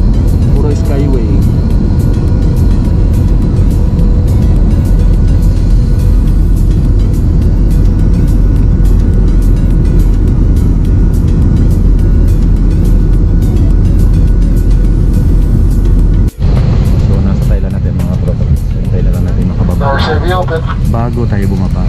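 Road traffic heard from inside a vehicle on a Thailand skyway, a steady loud engine and road rumble throughout with people talking over it.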